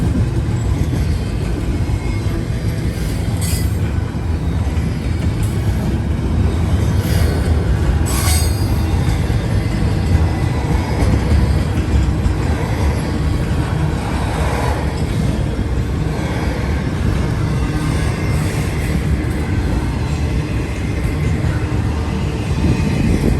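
A long Norfolk Southern intermodal freight train rolls steadily past a railroad crossing, a loud continuous rumble of wheels with intermittent squeals throughout.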